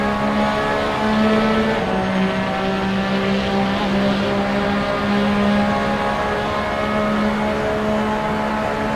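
A 2017 Porsche 911 RSR races at Imola in the game Assetto Corsa, its engine holding a loud, steady racing howl with slight pitch shifts through gear and throttle changes over several seconds.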